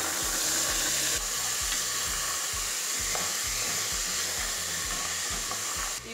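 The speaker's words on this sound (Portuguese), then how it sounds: "Vou colocar o feijão." Loud, steady sizzling and frying of oil and garlic in a pot fills the whole stretch, with a faint stir or clatter as beans and a bay leaf go in, all close up.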